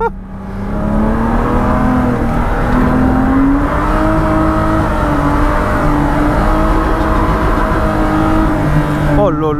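A drift car on cold tyres revs hard at a drift day, its loud engine drone holding steady close by with a slowly rising pitch for the whole stretch.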